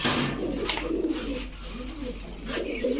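Pigeons at a Bangladeshi pigeon seller's, several birds giving soft repeated throaty coos close by, overlapping in a continuous low murmur with faint background noise.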